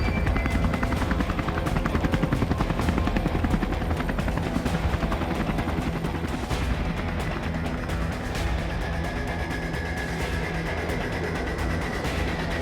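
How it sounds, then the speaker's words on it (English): A helicopter lifts off and flies away, its loud rotor thudding in a fast steady pulse with a whining turbine, easing off slightly toward the end. "the helicopter lifts up and flies out into the sky"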